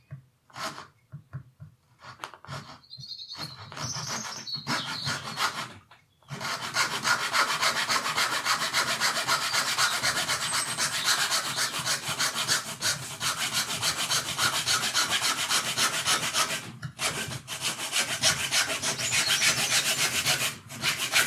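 A hand saw cuts through the wooden handle of a printmaking tool in an uneven, jerky rhythm of rasping strokes, close and steady for most of the stretch, after a few quieter scrapes and brief pauses.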